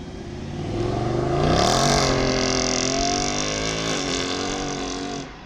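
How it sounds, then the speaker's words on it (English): An Audi pulls away from a dealership hard, revving up with wheel spin in a steady, loud surge of engine and tyre noise that builds and holds for several seconds before easing off. "Wheel spin and everything."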